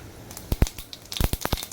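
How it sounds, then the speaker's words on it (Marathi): Mustard seeds pop and crackle in hot oil in a pan for mango raita tempering, a quick scattered series of sharp close snaps and sizzles with no talk. "तेल छान तापल्यावर अर्धा चमचा मोहरी चांगली तडतडू द्यायची"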